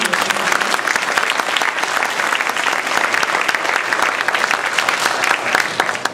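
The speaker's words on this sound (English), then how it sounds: "if we can give them a round of applause for being here" Audience at a middle school honor orchestra concert gives a full, sustained round of applause, dense and even with no talking over it.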